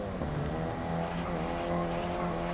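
Race car engine in the GRID Legends racing game, a steady loud whine with layered harmonics and a faint tire squeal as the car brakes into a corner, with no talk over it.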